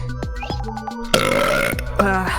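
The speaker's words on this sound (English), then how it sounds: "that is the best burp I ever heard" A long, loud, guttural burp rumbles out near the listener, set among game sounds and brief voices.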